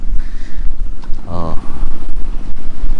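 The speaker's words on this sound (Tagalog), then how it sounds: "Sobrang lakas ng hangin." Strong wind buffets the microphone in a tomato garden, a loud, rumbling, gusty roar throughout, with a voice heard briefly in the middle.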